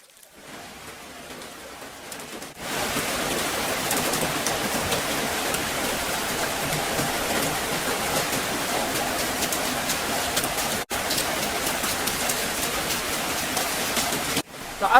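Heavy rain in a flood simulation: a loud, dense, continuous hiss that starts abruptly after a quieter opening and runs steadily, broken by two brief cuts.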